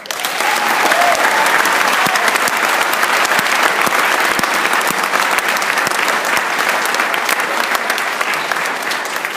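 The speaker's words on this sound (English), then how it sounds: "please join me in giving them a round of applause" A school convocation audience gives a high school marching band a loud, sustained round of applause. The crowd's dense clapping stays even and continuous throughout.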